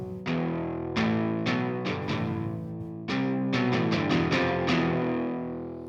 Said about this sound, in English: the samples on this one are with my amplifier set to some distortion